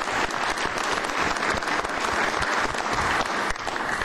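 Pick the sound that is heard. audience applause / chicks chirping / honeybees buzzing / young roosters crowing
audience applause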